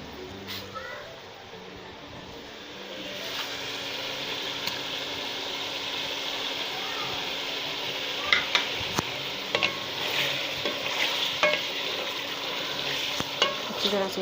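Garlic-ginger paste and onions are stirred and fried in a pan for a spicy chicken qorma. A continuous sizzle runs underneath, and a spoon scrapes and clicks intermittently, growing busier toward the end.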